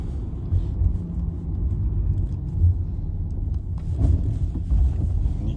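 A Renault Clio IV 75 hp Energy hatchback accelerates through town, its engine a steady low rumble with road and wind noise close by, swelling slightly as it is pushed.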